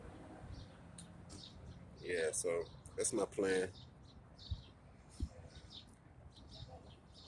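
Bird chirps and short trills ring out outdoors, a brief burst of calls in the middle, with a person speaking quietly and soft ambient noise.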